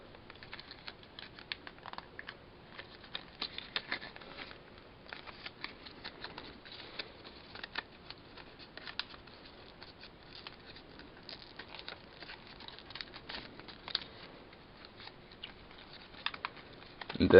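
Paper is folded by hand into an origami squirrel, giving soft, close crinkles, creases and light taps in an irregular patter, with no talking.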